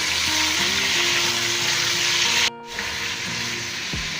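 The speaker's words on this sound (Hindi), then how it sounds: "इसमें अब ये आलू हमने धो के अच्छे तरीके से रखे, तो ये डाल दें। इसको हम थोड़ा सा भुनाई करेंगे इसकी।" Washed potatoes frying in a pan for aloo gujiya, a steady broadband sizzle with a faint tonal background hum, briefly cut near the middle and then resuming, with no talking.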